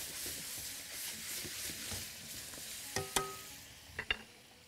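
Onion and garlic sizzle in a frying pan for chicken-ball pasta, a steady hiss of frying broken near the end by a few sharp clinks of a utensil against the pan.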